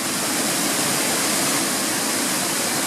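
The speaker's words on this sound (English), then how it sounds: "you can see there's a waterfall down below there" Twin Falls waterfall pouring down below a bridge in Banff National Park area, Canada, a steady dense roar of rushing water, loud and constant throughout with no voices.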